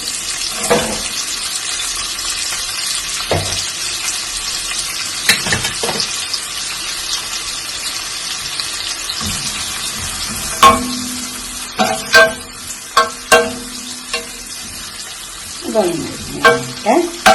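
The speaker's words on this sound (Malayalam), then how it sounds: "അതിൽ കുറച്ച് ഓയിൽ ഒഴിച്ചിട്ടുണ്ട്. കുറച്ച് സവാള ഇട്ട് കൊടുക്കാം." Chopped onions frying in oil in a pan for chicken curry, a continuous hiss of sizzling with occasional stir scrapes, then a run of louder rhythmic clanks and knocks near the end.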